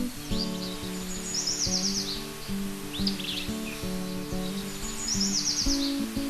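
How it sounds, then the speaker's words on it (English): A tiny southwestern willow flycatcher sings in Arizona, giving short bright chirps and trilled phrases that repeat at intervals over soft background rustle, fairly close and clear. "the distinctive song of the tiny southwestern willow flycatcher"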